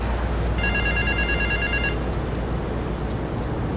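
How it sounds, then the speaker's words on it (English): A payphone rings in Grand Theft Auto 3, a steady electronic trill lasting over a second above a low, constant ambient hum from the game world, with no talk. "go to the mysterious payphone that's ringing"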